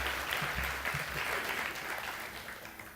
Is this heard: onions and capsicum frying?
no